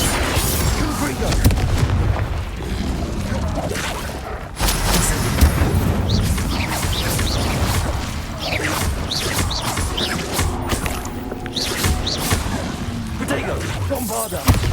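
Repeated booming spell blasts from a Harry Potter video game, dense and continuous over a busy mix of game effects and mechanism-like clatter, loud throughout with a brief drop partway.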